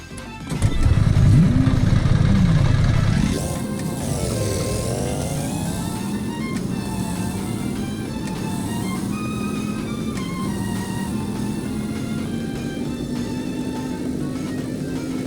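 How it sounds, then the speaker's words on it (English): Stormline car engine in the Roblox game A Dusty Trip, a rough tractor-like drone that revs up loudly at the start, then settles into a steady, slowly rising hum for the rest of the run. "the sound of the engine is not similar to the sound of the Nissan Skyline engine, but sounds a bit like a tractor"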